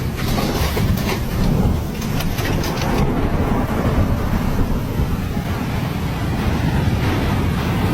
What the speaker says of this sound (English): The water rushed over the interstate.